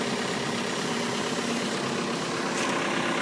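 A MultiQuip 75 kVA diesel generator running at low idle, a steady, even hum that holds unchanged throughout at moderate level.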